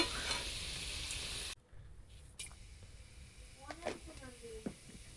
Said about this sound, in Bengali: এখন বন্ধুরা আলুগুলো লাল হয়ে এসছে